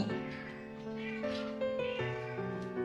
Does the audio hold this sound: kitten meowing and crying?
yes